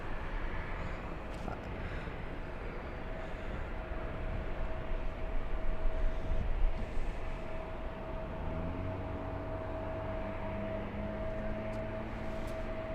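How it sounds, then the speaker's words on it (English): A Max Air Cargo plane at LAX rumbles steadily through a broad, noisy roar, its engines swelling in the middle, with a sustained tone shifting lower near the end. "We're going to send Max Air Cargo. It's the plane that sounds like a train."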